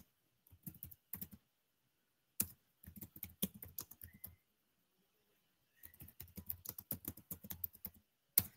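Bursts of typing on a computer keyboard come in several quick clattering runs with pauses between them, fairly close and alone, with no talking.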